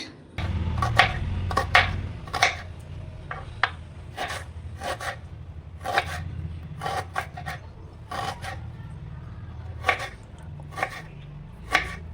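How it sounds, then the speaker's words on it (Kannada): Two onions are chopped with a knife on a cutting board for a poha recipe, producing close, sharp chops that come in irregular bursts and clusters, with no talking. "2 ಉಳ್ಳಾಗಡ್ಡಿ ಕಟ್ ಮಾಡ್ಕೊತಾ ಇದ್ದೀನಿ."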